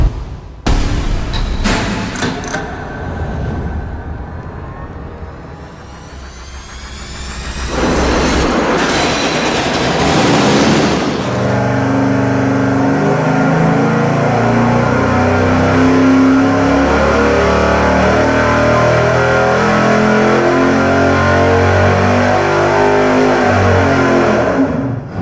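408-cubic-inch engine with ported cylinder heads revving hard at full throttle on a dyno, starting with a few sharp blips, then climbing into a loud, sustained roar that holds to the end.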